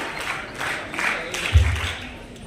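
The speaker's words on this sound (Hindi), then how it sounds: "जोरदार तालियां बजाई जाए।" Steady applause from an audience at an awards event at a college in Udaipur, moderately loud and continuous, with a brief low thump near the middle and no clear voices.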